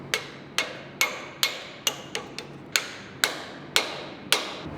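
A bigger hammer strikes metal parts of a forestry trailer's brake assembly, about a dozen sharp, ringing blows at a steady working rhythm, close and clear with no talking.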